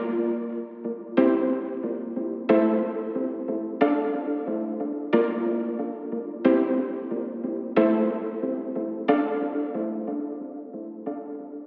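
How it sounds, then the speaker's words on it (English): Warped pluck synth patch from Alchemy in Logic, used in a Kizomba/Kompa/Zouk production, playing repeated plucked notes roughly every 1.3 seconds, each decaying with a delay tail, moderately loud and alone with no voices. "Next up, we've got this warped pluck."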